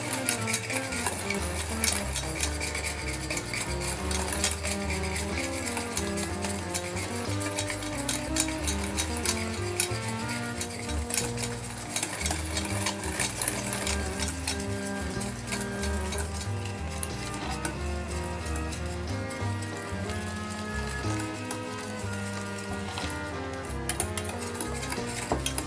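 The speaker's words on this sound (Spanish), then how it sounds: "卵黄が固まらないように混ぜます。" Egg yolk mixture for profiterole cream is stirred steadily in a pot, with soft scraping and light utensil taps that continue under constant background music.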